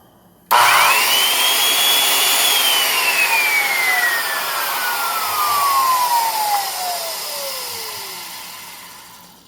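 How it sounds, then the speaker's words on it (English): A Black & Decker No. 83 830 heavy duty 8-1/4 inch Sidewinder circular saw starts abruptly, its motor whine climbing quickly then winding down slowly in one long smooth run, loud and close with no cutting. "We'll give her a quick run. It really is a smooth saw."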